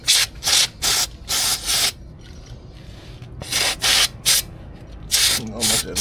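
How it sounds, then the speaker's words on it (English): Brake cleaner hisses from an aerosol can in repeated short bursts, about ten in all, with a pause in the middle, loud and close while servicing a 2001 Yamaha Grizzly 600 4x4 ATV during an oil change. "Give her the old brake clean."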